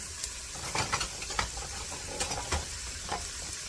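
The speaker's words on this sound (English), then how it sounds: "I'm going to put all my little chopped carrots" Chopped carrots go into a hot soup pot for chicken gnocchi soup, and a steady sizzle and hiss rise as they are stirred. Soft scraping and patter come in irregular bursts, close by, with no talk.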